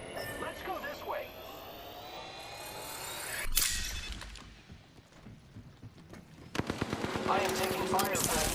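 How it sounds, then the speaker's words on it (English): Automatic weapon fire in the battle royale video game Apex Legends: rapid, dense bursts that get louder toward the end, mixed with game sounds while a voice talks over the action. "I am taking fire, friends."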